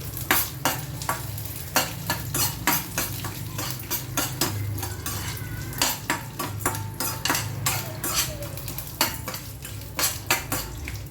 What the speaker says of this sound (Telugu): ఇప్పుడు దీంట్లో ఎండుమిర్చి వేసేద్దాము.